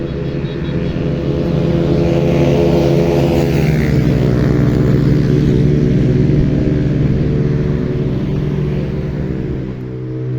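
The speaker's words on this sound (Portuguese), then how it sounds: "Os carros andam bastante aqui na rua" Steady traffic noise from cars driving along a street in Porto Alegre, a continuous loud engine rumble with a vehicle passing close by in the middle, no talking.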